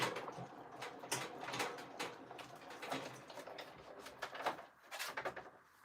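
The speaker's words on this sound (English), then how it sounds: "I'm just embossing this, the other side of my craft room" A cardmaking embossing machine presses paper in a craft room, making a quiet run of clicks, ticks and mechanical rattles that come in irregular bursts, faint and with no talking over them.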